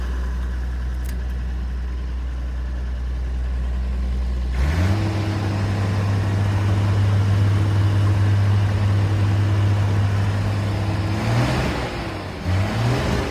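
A six-cylinder agricultural machine engine idles low and even, then the revs climb sharply and hold at a steady higher pitch before briefly rising again, loud and close with no voices.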